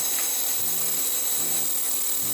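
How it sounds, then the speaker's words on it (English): An electric drill bores through a water tank at a house in Jamaica, giving a steady, close, high-pitched grinding whine that runs continuously, with faint low thumps beneath. "They're drilling through the tank."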